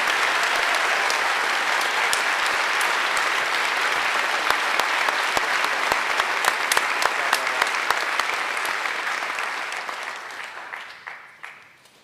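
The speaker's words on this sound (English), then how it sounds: "Please give a huge round of applause for our 2024 Eagle Scholars." A school audience at a senior awards night claps for the 2024 Eagle Scholars. The applause is full and sustained with crisp individual claps, then thins out and fades away over the last few seconds.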